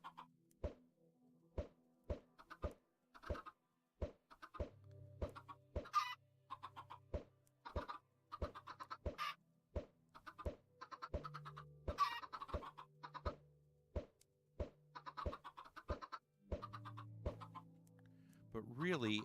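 Video game chickens inside a chicken cooker give repeated clucks in a steady rhythm, with sharp clicks marking time and a person talking over them.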